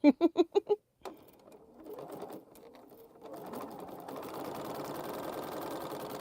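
A sewing machine chain-pieces quilt pieces without breaking the thread. It opens with a few loud, close, rhythmic stitching bursts, then a brief pause, then a steadier, softer mechanical run of stitching.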